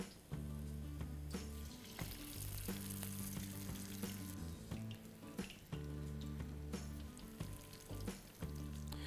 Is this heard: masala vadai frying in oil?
yes